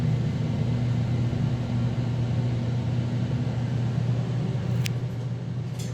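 A Thyssenkrupp touchscreen Momentum traction elevator at a Marriott, heard from inside a newly renovated cab during the ride: a steady low motor hum with a constant drone and faint background hiss throughout, plus one brief click near the end.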